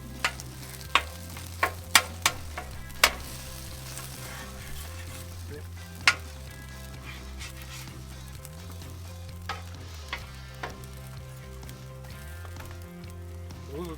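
Ingredients sizzle steadily in avocado oil on a Blackstone griddle during a huevos rancheros breakfast, with a constant frying hiss and scattered sharp pops and scrapes as they are stirred.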